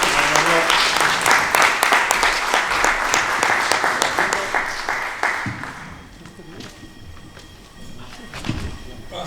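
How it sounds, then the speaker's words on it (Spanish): An audience applauds loudly for an invited Olympic gold medalist guest at a talk. The clapping holds strong for about five seconds, then fades quickly into a few scattered claps and quiet room noise. "Así que le pido un fuerte aplauso para Mario."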